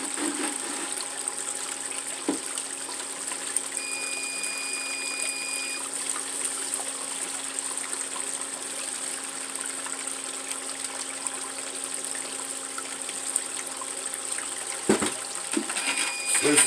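Water runs steadily through a gold sluice set at 11 degrees for unclassified material during a winter group dig, a continuous close trickling wash that holds even throughout, with no talk.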